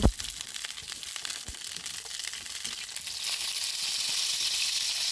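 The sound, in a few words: pointed gourds (potol) frying in hot soybean oil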